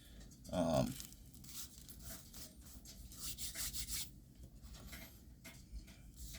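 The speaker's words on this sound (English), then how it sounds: "in the palm of your hand, and just kind of rub it like that." Flakes of Peter Stokkebye Luxury Twist Flake pipe tobacco are rubbed between the palms, giving soft, close, dry rustling and grinding in uneven waves, with a brief brighter crackle near the start.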